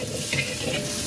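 Shrimp frying half-cooked in a wok with a steady, close sizzle and faint scraping as the pieces are stirred, with no voices.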